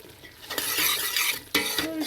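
A spoon stirs fresh orange halwa in a pot, making scraping clinks and a soft sizzle in bursts, with a sharper knock near the end.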